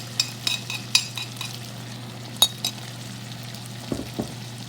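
Spoon stirring saved marinade into chicken liver and heart adobo in a pan, with a few scattered scrapes and clinks over a low steady hum, fairly quiet with no talk.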